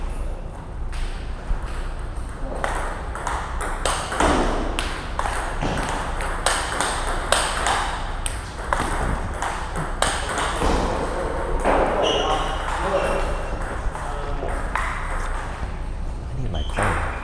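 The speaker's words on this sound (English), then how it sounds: "Sean Reddy and Graniturov warm up" A table tennis ball is rallied back and forth during a warm-up at a ping pong venue, with rapid, steady pings of bat and table hits throughout, under crowd chatter and talk.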